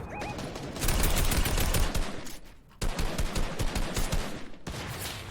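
Sniper shots and bursts of gunfire in a first-person shooter video game, loud and sharp, with a brief lull near the middle before the firing resumes.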